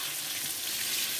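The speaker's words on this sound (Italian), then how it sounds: "guardate come sfrigolia forte il nostro olio" Oil sizzling hard in a pan while frying stuffed eggplant, a steady, dense crackling hiss heard up close and alone, with no pauses.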